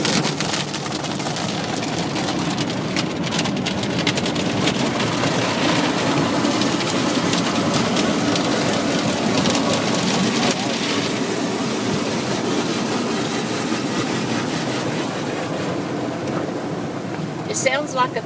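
Water jets of an automatic car wash pounding steadily on a car from inside, a loud, continuous rain-like roar that barely changes throughout, with people talking faintly under it.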